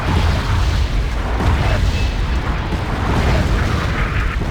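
Dense rumbling battlefield din of artillery shells bursting in the Wargame video game, a continuous loud low boom with overlapping impacts and no clear gaps.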